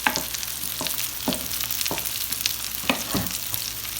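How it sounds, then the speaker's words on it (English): Sausage, sautéed onions and mushrooms with lemon pepper rice sizzle steadily in a pan while a utensil scrapes and stirs in several distinct strokes, close and fairly loud, no voices. "Now, I'm gonna stir this only because I wanna get those flavors added in here"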